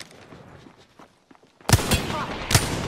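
Gunfire in the video game Apex Legends arrives as a few sharp, loud bursts after a quieter stretch of faint movement and a brief voice.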